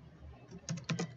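Keys on a computer keyboard are tapped in a few quick, light clicks, close by and fairly quiet, with no talk over them.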